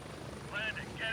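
A Little Bird helicopter touches down at a landing zone in the Gray Zone Warfare video game, its rotor drone steady and fairly quiet under an excited voice that calls out briefly.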